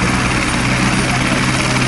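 Close, loud, steady roar and blade thump of a Ministry of Defence military helicopter lifting off from a school grounds in Poole, a constant wash of rotor and engine noise with no clear talk over it.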